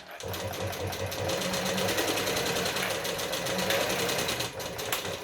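A sewing machine stitching a zipper closed: a continuous fast mechanical whirring and clatter, close and fairly loud, running steadily for several seconds before briefly slowing near the end.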